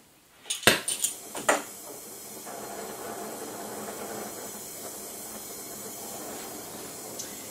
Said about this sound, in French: maintenant, je vais chauffer avec mon chalumeau